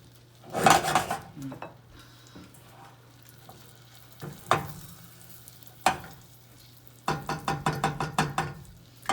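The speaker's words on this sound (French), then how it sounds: "Bougez la casserole, d'accord?" A metal saucepan of caramel clatters and scrapes on a stovetop over very low heat in short bursts, with a low steady hum underneath and a quick run of rhythmic knocks near the end.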